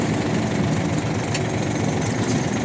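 An Iseki TU-240 mini tractor's engine runs steadily at idle, a loud, continuous mechanical drone with rough low rumble and no pauses.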